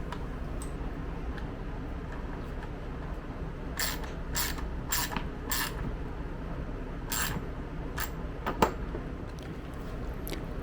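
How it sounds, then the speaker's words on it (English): A small ratchet with a socket and an Allen key tighten fasteners on a plastic lawn mower discharge chute, giving short bursts of rapid clicking in separate runs over a low background hum. "I'll use the Allen key on one side and my small ratchet with the right socket on the other side"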